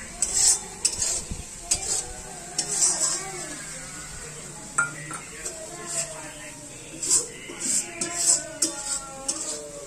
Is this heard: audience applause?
no